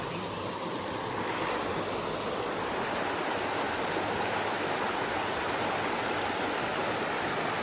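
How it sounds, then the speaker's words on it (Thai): Fast, powerful flash-flood stream rushing through a forest gully, a steady, loud roar of churning water that fills the whole recording with no voices over it. "น้ำแรงมาก"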